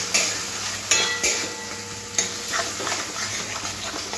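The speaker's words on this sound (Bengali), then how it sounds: "মাছের ডিমটা এই মশলার সাথে খুব ভালো করে কষে নিতে হবে।" Fish roe frying in spice paste in a pan, with a steady sizzle under several distinct scrapes and clinks of a stirring utensil, close and with no one talking.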